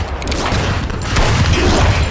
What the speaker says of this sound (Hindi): गोलियों की बारिश हो रही थी